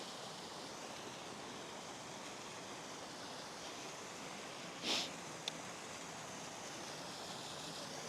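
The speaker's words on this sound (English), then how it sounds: "Here's that waterfall." Steady broadband rush of a mountain waterfall near Cloud Peak in Wyoming's Bighorn Mountains, constant and enveloping, with one brief sharp knock partway through.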